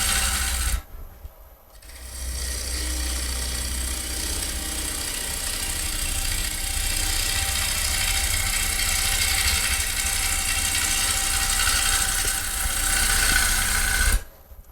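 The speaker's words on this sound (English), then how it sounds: "This is not a bevel rubbing cut. It is a scrape." Bowl gouge taking a scraping cut on a spinning bowl blank on a wood lathe, a steady broadband rasp with motor hum that runs unbroken for about twelve seconds after a short pause, then stops.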